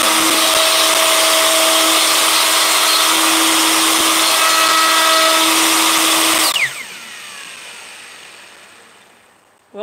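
A Makita 1/2 inch router spinning at about 15,000 RPM carves letters into a wooden sign, a loud, steady high whine that cuts off abruptly and winds down to near silence.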